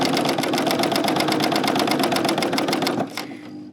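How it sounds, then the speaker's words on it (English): An overlock serger sewing a seam runs fast and loud with a rapid, even stitching chatter for about three seconds, then slows and winds down to a stop. "then I'm just going to come back and serge it"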